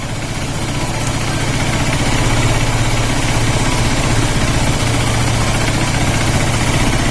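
A Honda Trigger motorcycle engine idles loudly and steadily nearby during carburetor tuning. The low, even rumble carries a slight knocking pulse and shows little change in pace.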